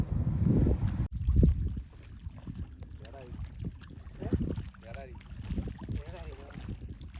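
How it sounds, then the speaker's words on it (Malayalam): A fishing boat runs out on the sea off Saudi Arabia, with a low churning engine and water rumble buffeted by gusty wind noise, loudest at the start, while voices talk over it. "ഫിഷിംഗ് ബോട്ട് ബീഡിയിൽ ഉൾപ്പെടുത്തിയില്ലെങ്കിൽ പിന്നെ എന്ത് ഫിഷിംഗ് അല്ലേ അവനും പോകുന്നു മീൻ പിടിക്കാൻ"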